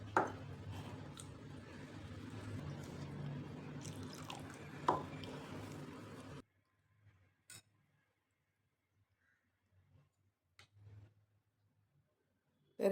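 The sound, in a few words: water added to wheat flour for slurry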